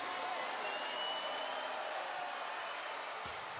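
Basketball crowd at an NBL game between Adelaide and Sydney Kings reacting after a player misses both free throws, a steady broad roar of cheering and applause filling the arena, with a commentator's voice over it.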